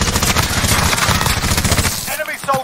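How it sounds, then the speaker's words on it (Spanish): Rapid automatic gunfire in the video game Warzone Rebirth, a dense loud burst of shots close by that cuts off near the end, with players' voices mixed underneath. "Me están disparando."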